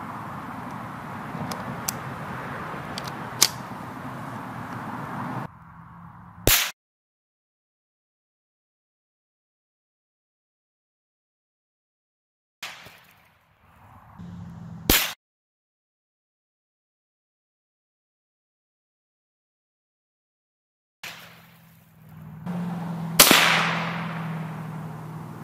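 Three sharp, isolated cracks from a .22LR rifle firing CCI Velocitor rounds at reactive targets, each shot standing alone between long stretches of silence, with faint ambient noise before the first.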